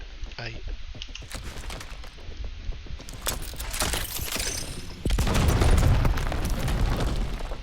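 A gas tank blows up in a shooter video game, a sudden loud boom followed by a sustained crackling roar of debris and fire, with gunfire-like bursts and a player talking over it.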